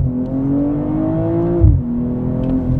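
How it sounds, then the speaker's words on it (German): A 2022 BMW 2 Series Coupé with a 374 hp six-cylinder, weighing 1.7 tonnes, accelerates hard: a loud, steady rising engine drone with a brief thump and a gear-change dip partway, heard from inside the cabin. "Jetzt beschleunigen wir mal durch."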